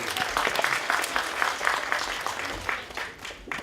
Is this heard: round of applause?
yes